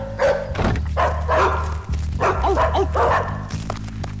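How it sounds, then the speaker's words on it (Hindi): Several dogs released in a Hindi action movie scene bark loudly and repeatedly in a close, overlapping flurry of sharp barks and yips over a low background hum. "कुत्तों को निकालो।"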